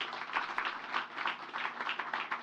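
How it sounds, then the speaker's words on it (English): An audience claps at a bank's shareholder presentation, a brief burst of crowd applause heard alone at moderate loudness. "You all deserve a round of applause."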